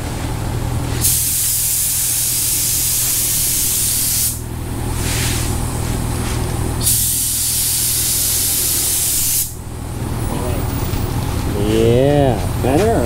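A spray gun hisses in two long bursts while painting Dodge Viper ACR fenders, loud and close, with a low compressor hum underneath and a brief voice near the end.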